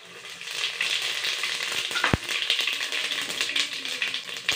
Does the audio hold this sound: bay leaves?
yes